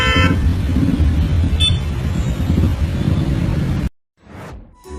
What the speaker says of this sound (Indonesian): mereka terus-terusan diklakson oleh bus.